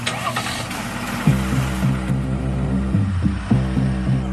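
A Chevrolet Silverado Trail Boss pickup truck's engine turning over and running, a loud steady throbbing rumble with two sharp surges partway through, heard alone without talk.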